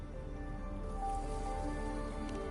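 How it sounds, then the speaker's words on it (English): Steady, even rain falls in the video game Wuthering Waves, a soft continuous patter running under faint sustained musical tones. "Yes, retroact rain."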